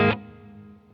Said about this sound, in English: I'm using the plate reverb in the Golden Reverb right now